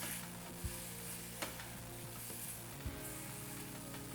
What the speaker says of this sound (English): You're going to take your rubber spatula and just stir to combine.